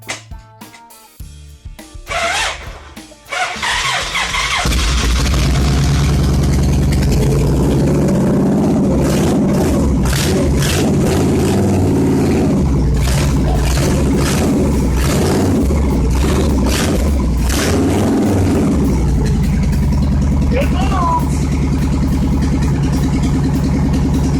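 Car engine of a Sport Cruiser idling and revving as it is dropped into gear, starting with a few clunks before a loud, sustained engine drone with rising and falling revs.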